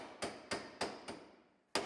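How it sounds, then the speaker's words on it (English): Five sharp hammer blows on sheet metal of a 2018 Sierra truck body being rebuilt, struck in an irregular rhythm with quick decays, faint and close. "A little hammering to stress relieve the metal behind it."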